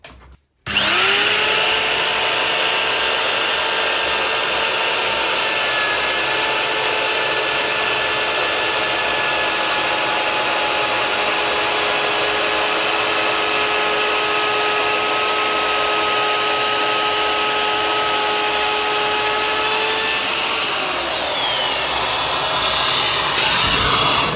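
A loud, steady high-pitched whine of a Parkside POF 1200 C2 plunge router cutting wood, with a vacuum hose hum underneath, running continuously until the pitch drops near the end.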